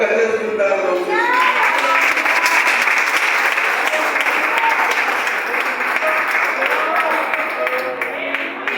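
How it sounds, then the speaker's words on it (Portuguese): Church congregation applauding, a loud sustained burst of dense clapping filling the room at close range with no break, then easing slightly toward the end. "Você pode aplaudir o Senhor mais forte por esta palavra"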